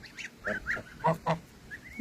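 A domestic gander honks in a farmyard, a rapid series of about six loud, nasal calls close by, followed by a softer drawn-out call.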